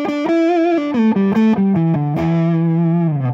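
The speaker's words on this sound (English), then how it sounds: "the rhythm pickup with the distortion is that you have a really, really sort of dark," A PRS McCarty 594 electric guitar on the rhythm pickup with distortion plays a quick descending melodic line, dark and warm in tone, ending on a held low note.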